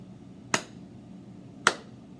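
Two sharp hand claps about a second apart, clapped as a rhythm for a music note-reading lesson, crisp and fairly close over a quiet room with no talking.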